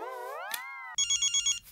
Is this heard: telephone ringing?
yes